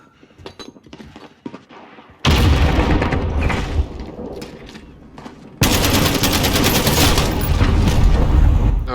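Heavy gunfire and explosive bursts fill a Call of Duty: Modern Warfare hardcore multiplayer match, loud and continuous after a quieter stretch of scattered shots, with a grenade blast in the mix.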